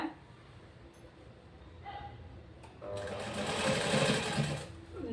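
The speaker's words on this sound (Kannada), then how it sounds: "ಲಾಕ್ ಹಾಕೊಂಡು ಸ್ಟಿಚ್ ಮಾಡ್ತಾ ಬರಬೇಕು." A sewing machine stitching a blouse starts out quiet, with a few soft clicks, then runs in a steady, louder whirring hum for the final seconds, close by and with no talking over it.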